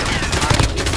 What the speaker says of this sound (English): Oh, somebody's shooting at me there.